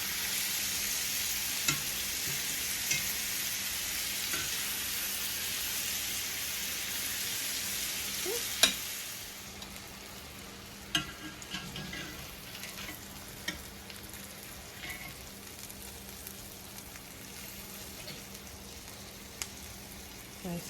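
Chicken breast searing in olive oil with paprika gives a steady, close sizzle. It is loud at first, then settles into a quieter hiss with scattered pops and spatters, and no one speaks.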